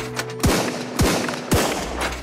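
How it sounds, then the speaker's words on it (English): Gunfire striking the player in the survival game Sunkenland: three sharp, loud, close impacts at an even rhythm roughly half a second apart, with no voice over them. "Am I still getting shot?"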